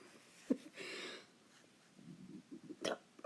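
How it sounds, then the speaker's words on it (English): A person burps once, a short close low croak, followed by a few quiet throaty sounds and breaths in an indoor room, with no speech over it. "Oh, burped."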